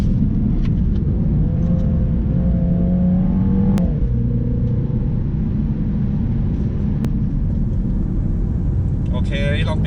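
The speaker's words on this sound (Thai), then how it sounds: "สังเกตว่าเสียงยางค่อนข้างน้อยนะ" A MINI Countryman JCW with 306 horsepower corners with steady engine drone and a low tyre roar under continuous talk inside the cabin, the tyre noise staying fairly subdued.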